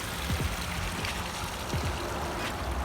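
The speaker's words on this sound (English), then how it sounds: "When it overflows up here, goes down into the waterfall, into the pond." Water from a backyard pond waterfall trickles and splashes steadily, making a continuous close, broadband rush with a few small gurgles and drips rising out of it.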